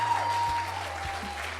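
A comedy club audience keeps clapping for a comedian, a steady dense patter under a low sustained hum, with no voices over it.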